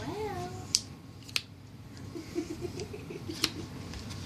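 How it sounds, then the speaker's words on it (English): Scissors snip through slime: several sharp, isolated cuts sound close up, spaced about a second apart, with soft squishy patter between them and a brief bit of voice at the start. "My favorite thing to do with slime is to cut it."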